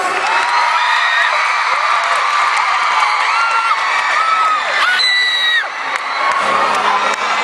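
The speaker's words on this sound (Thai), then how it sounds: "วันนี้ขอเสียงปรบมือกับดนเซอกติวศักคนนี้ด้ครับ" Crowd at a lively event cheering and applauding, loud and sustained, with shouts, whoops and high excited voices riding over the dense roar of clapping.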